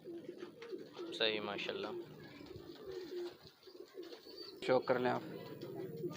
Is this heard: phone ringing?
no